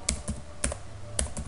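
Fingers tapping on a computer keyboard, a handful of separate key presses in quick uneven succession, close and clear with no voice.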